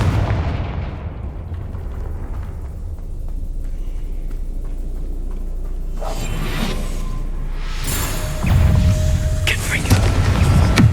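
Confringo fire-blast spells cast in Hogwarts Legacy, heard as a steady roar of combat with booming bursts and whooshes, swelling louder near the end amid game effects.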